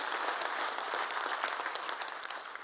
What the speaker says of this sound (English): I think we deserve a nice round of applause for it.